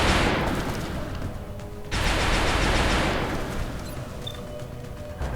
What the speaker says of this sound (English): Beautiful amounts of high energy laser just bursting across open ground right now.